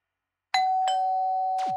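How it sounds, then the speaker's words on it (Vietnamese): Three electronic chime strikes in quick succession, the last sliding downward, with a steady sustained tone ringing underneath; loud and close, no voices. "Nghe giống như chuông cửa vậy."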